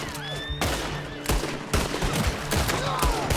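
Rapid gunfire from Red Dead Redemption 2 cracks out in loud, dense volleys. The bursts are close and overlapping, with short gaps between them and faint echoing tails.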